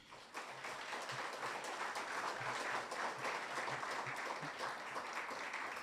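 Steady audience applause from a crowd at a research spotlight event, dense and continuous clapping holding at an even level for about six seconds with no speech over it.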